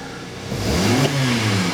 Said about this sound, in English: But if I rev it full throttle